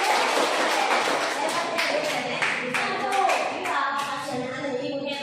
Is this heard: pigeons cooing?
no